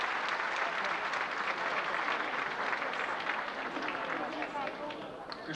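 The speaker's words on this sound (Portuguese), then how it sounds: "os vossos aplausos para a banda de São João de Stoughton" Sustained crowd applause greeting the São João de Stoughton band, a dense, even wash of clapping that holds steady and eases slightly toward the end.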